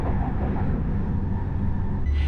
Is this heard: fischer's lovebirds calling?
no